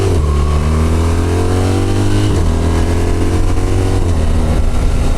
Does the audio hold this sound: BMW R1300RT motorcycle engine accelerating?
yes